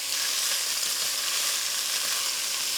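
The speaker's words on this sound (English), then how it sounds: "You want to sear these on all sides." Short ribs sear in a hot pan, giving off a loud, even, unbroken sizzle that stays constant from start to finish.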